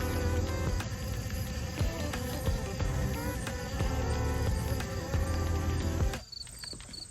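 Honey bees hum and buzz steadily around a backyard hive as they clean leftover honey off used gloves and harvest gear set outside in late summer, a dense close drone that drops away abruptly near the end.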